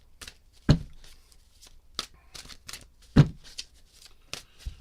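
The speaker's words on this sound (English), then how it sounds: "I'm going to do a cleansing shuffle" Tarot cards are shuffled in a series of sharp riffles and slaps, each burst short and crisp with quieter rustling in between, close and clear with no talking.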